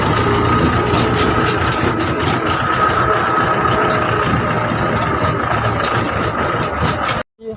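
A loud, steady tractor engine rumbles continuously, deep and chugging, then cuts off abruptly just before the end.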